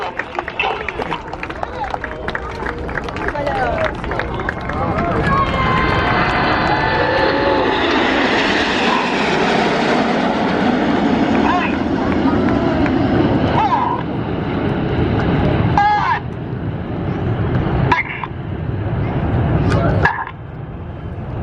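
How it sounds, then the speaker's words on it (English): Jet aircraft formation roaring past at the MCAS Miramar air show in 2019, a broad loud rumble swelling mid-clip then fading, with an announcer talking over the crowd noise throughout. "we are about to salute you with a very special flyby"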